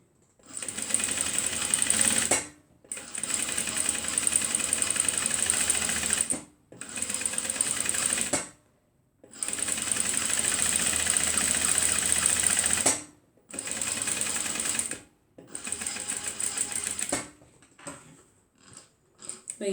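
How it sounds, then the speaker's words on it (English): A sewing machine stitches fabric for a zipper handbag in close, loud bursts of rapid whirring, several runs of a few seconds each separated by short pauses, ending in a few brief stuttering stitches. "then I sew 2 centimeters away from the edges"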